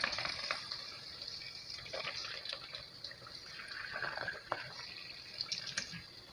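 Taro leaf vadas frying one by one in hot oil in a wok over a low flame, a faint soft sizzle with light bubbling crackles and scattered pops.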